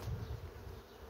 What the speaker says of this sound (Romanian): Iată, vine albina. Foarte multă albină vine.